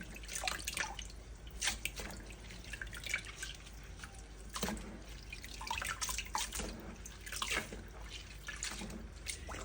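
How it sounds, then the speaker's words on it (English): Sea moss being rinsed under running water from a tap, with faint irregular splashes, drips and trickles coming in bursts over a quiet background. "I'm just going to rinse this off"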